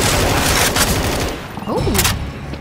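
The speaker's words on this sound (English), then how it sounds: "Deploying frag rounds." Frag rounds fire in Left 4 Dead 2 as a rapid burst of loud gunshots and booms, the volley easing briefly before another crack, with a voice calling out amid the shooting.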